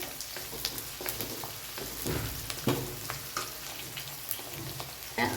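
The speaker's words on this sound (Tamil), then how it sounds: "இந்த ஆயிலே கருவேப்பிலையும் நல்லா பொரிஞ்சு வரணும்." Onions and a handful of curry leaves fry in oil for tomato chutney, giving a loud, crackling sizzle close up. Frequent sharp pops and stirring scrapes break through it.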